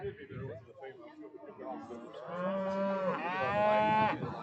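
At an Australian beef cattle show, a cow lets out a long, loud moo that rises and swells near the end, with quieter crowd chatter underneath.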